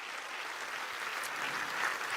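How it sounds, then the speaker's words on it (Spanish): Steady, dense applause from a church congregation, sustained and even throughout without a break. "Dale fuerte ese aplauso al Señor"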